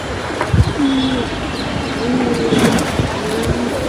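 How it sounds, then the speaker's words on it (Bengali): A pet male khaki pigeon coos up close in soft, low, rolling calls, repeated several times against light background noise. "এই যে আরেকটি নর খাকি, এটা পালনা করা কবুতর আমার বাসার"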